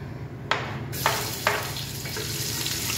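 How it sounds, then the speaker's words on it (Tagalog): Aromatics frying in hot oil while home cooking give a steady sizzling hiss, with a few sharp bursts as pieces hit the pan near the start, close and moderately loud with no talking. "So prituhin lang natin ito ng ganito para lumabas yung aroma niya."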